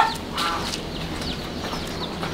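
Chickens cluck in a mountain village, with several overlapping calls sounding fairly close amid steady outdoor background noise and no talk.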